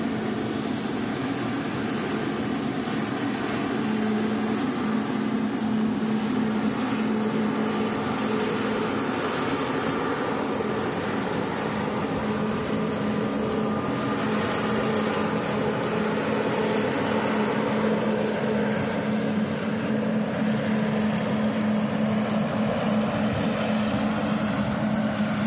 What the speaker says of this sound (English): Lovely sound. Qatar Airways 777 from Doha. Another huge aircraft.